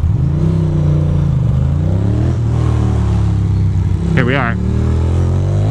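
Motorcycle engine running with a steady throttle drone in snowy, salted New York City traffic, loud and close throughout, with a brief rising whine partway through as someone speaks over it.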